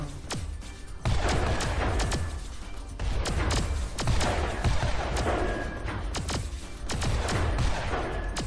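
Guns firing during a space battle in X3: Albion Prelude, a rapid, relentless stream of sharp blasts and thuds hammering away over a dense, rumbling combat backdrop.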